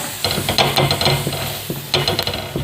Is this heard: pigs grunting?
no